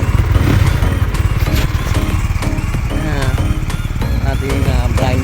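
A brand-new Honda motorcycle engine runs steadily and loudly close by, its continuous rumble and clatter persisting throughout while someone speaks over it.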